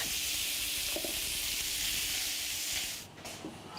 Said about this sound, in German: Ich jetzt den stark anbraten.